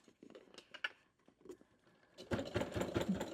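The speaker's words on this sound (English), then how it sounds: "Keep sewing 1/4 inch." A sewing machine stitches a quarter-inch seam on a fabric bag, starting with faint, hesitant taps before settling into a louder, steady rapid whirring run.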